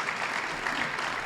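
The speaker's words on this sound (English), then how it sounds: "You can clap, go ahead." An evening audience at a Monadnock Conservancy storytelling event claps together in a brief burst of dense, steady applause that fills the room evenly.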